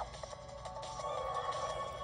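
A horse neighs in the Miitopia video game, a short whinny followed by a snort, clear and alone.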